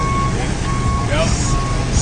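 Self-driving truck backing up, its reversing alarm sounding steady beeps over a noisy engine rumble outdoors, with a brief rising tone partway through.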